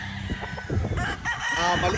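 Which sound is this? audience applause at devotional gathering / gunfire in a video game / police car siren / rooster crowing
rooster crowing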